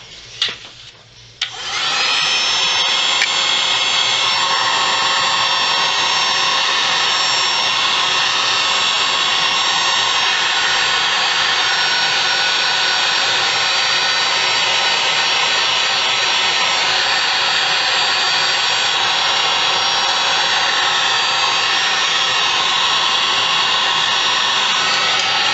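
A hair dryer blows steadily on a handmade princess card, switching on after a brief quiet moment and then roaring loud and unbroken, close to the mic, with no talking over it.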